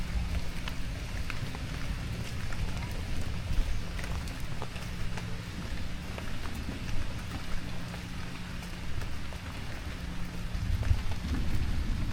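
Heavy rain falls in Gazipur, Bangladesh, a dense, continuous downpour drumming on surfaces with low rolling thunder rumbling underneath throughout, and no voices.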